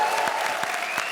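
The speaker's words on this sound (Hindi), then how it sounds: "जोरदार तालियां।" Studio audience applause on a Hindi comedy show stage, a steady wash of clapping with a few stronger claps standing out, fairly loud and without speech.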